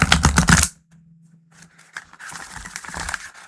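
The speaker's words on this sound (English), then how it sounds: "it's a good shuffle." A deck of tarot cards is shuffled during a live reading, a brisk riffle burst, a short pause with a low hum, then a second longer stretch of soft papery card shuffling, close and fairly clear.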